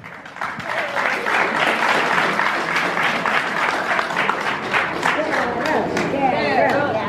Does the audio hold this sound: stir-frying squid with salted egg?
no